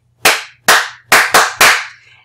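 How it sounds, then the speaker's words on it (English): Five sharp hand claps close up, a classroom teacher's attention prompt, in an uneven rhythm with the last two quickly paired, each crack decaying briefly over a faint low hum. "I can clap."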